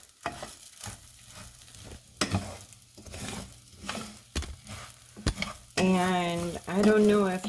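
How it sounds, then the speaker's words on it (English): Rice, vermicelli and beef sizzle in a pan while a utensil scrapes and stirs in repeated strokes; a voice speaks briefly near the end. "It's time to stir this."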